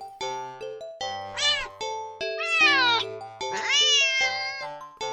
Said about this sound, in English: the cat meows sharply at you and dashes off to the corner into the hall